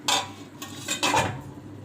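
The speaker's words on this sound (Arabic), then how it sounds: "نجيب الحله بقى اللي هنعمل فيها" A metal cooking pot picked up and set down in a home kitchen, a few light clanks and scrapes close by, with no speech.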